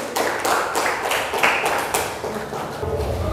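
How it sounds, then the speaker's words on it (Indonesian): Classmates in a classroom clap for a student group after its presentation, brisk uneven applause with a few louder bursts that thins toward the end. "Beri tepuk tangan untuk kelompok"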